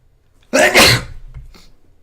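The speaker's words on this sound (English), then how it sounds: "I'm going to sneeze." One loud, close sneeze bursts out sharply and fades into a brief breathy tail, with quiet room sound before and after.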